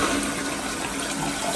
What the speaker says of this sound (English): It's flushing fine.